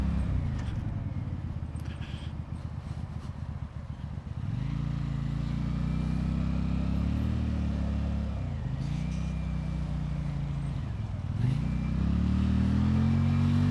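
A 125cc motorcycle engine drones loud and close while riding, its pitch climbing through the gears with short dips at each shift, then rising again in steady acceleration.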